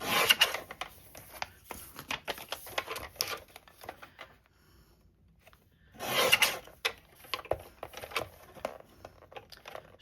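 Scissors snip through fabric scraps for a quilted tag, giving close, soft rasping cuts in irregular bursts with a brief quiet pause midway.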